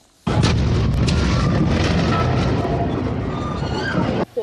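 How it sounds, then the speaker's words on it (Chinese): Gas pipeline explosion in Kaohsiung, a loud sustained roaring blast with crackling bursts, filling the clip from start to finish before cutting off abruptly. "火花爆炸声不绝于耳，凌晨在高雄发生的气爆意外震惊全台"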